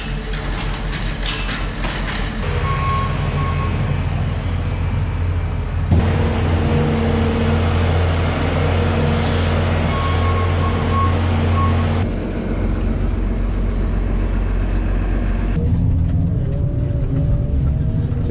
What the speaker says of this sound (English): I'm gonna scoop it out with a skid steer, these rows of bedding here, and scoop it into the bucket of the wheel loader there